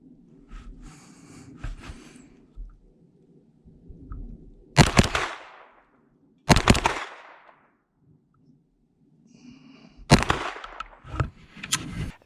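Pistol shots from a handgun fitted with a Holosun HS510c red dot ring out outdoors in snow, sharp loud cracks in separated pairs with breathing and faint movement between them.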